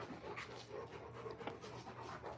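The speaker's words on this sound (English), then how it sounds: "Not to show off my dogs, not to show how cute they are, how awesome they're playing with each other right now" Dogs panting rapidly and steadily while playing with each other outdoors on a hot Texas evening, close and fairly soft, with faint rustling and no talking.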